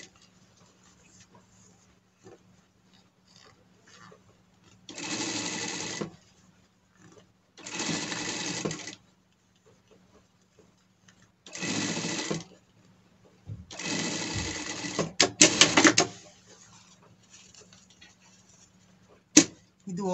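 A sewing machine stitches a leather pet harness along its seam in four or five separate runs of steady whirring, each lasting one to two seconds, with quiet gaps and small clicks between, no talk.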